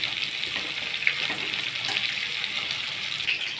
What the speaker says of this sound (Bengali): ওই তেলের মধ্যেই আমি নুন হলুদ যে মাখিয়েছিলাম পটলগুলো, তার মধ্যে আমি তেলটার মধ্যে ঢেলে দিলাম।